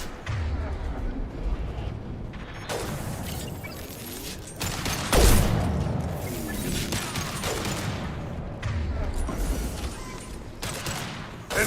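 Gunfire in a Mass Effect 2 mod, repeated loud shots and bursts echoing through a combat scene, with a heavy blast around the five-second mark and mechanical weapon clicks between volleys, a voice speaking intermittently underneath.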